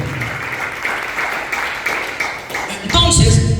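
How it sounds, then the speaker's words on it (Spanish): A church congregation applauds during an evangelist's sermon: sustained, dense clapping that swells louder near the end, with a voice speaking over it. "denle un fuerte aplauso al Señor"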